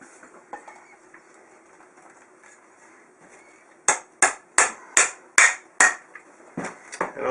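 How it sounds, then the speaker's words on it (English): A hybrid snake rack (ARS-1039) being assembled, with connectors hammered into its slides: after a quiet stretch, about eight sharp, close hammer strikes land in a steady rhythm, alone without talk. "I'll go ahead and pound these in and then put the screws in"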